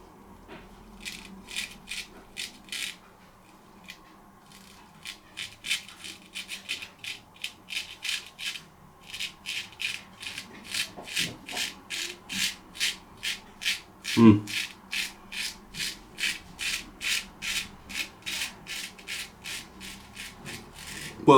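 A Dorko Swedish steel straight razor scrapes across stubble in a series of short, crisp rasping strokes, slow at first, then quickening into a rapid, rhythmic run of close, quiet passes.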